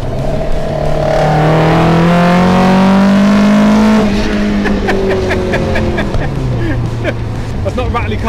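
A modded Ford Cortina Mk3 estate growls loudly close by, its engine note rising and falling through revs over several seconds, with talk alongside.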